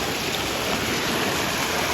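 Floodwater surging after five dam gates were opened, a loud, unbroken broadband roar of rushing water close by, with no voices.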